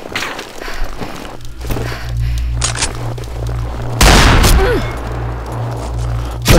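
Gunfire in the video game Combat Arms rattles in bursts and booms, with a loud blast partway through and dense shooting afterward.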